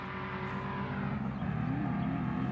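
A truck engine revs up in the Simpson Desert outback with a rising, rough growl, steady and fairly close, with no voices.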